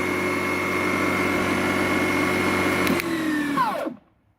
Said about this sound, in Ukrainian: нажавши запобіжник, вижимаю ручку. І наша газонокосіночка працює.